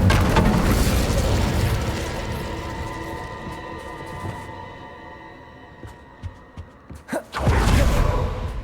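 The Incendio fire spell is cast in Hogwarts Legacy: a long, dense roaring whoosh fades to a quieter rumble, with crackling pops near the end and a sudden loud fiery burst and boom close to the listener.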